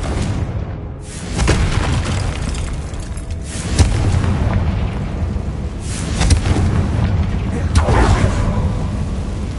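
A Confringo fire spell blasts in Hogwarts Legacy, a loud booming explosion followed by further deep rumbling impacts and swells of layered game effects and music over nearly ten seconds.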